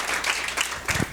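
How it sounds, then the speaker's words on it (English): Brief burst of audience applause at a women's leadership event, a dense patter of hand claps that rises and falls over about a second. "Please, let's say a round of applause again for Emily."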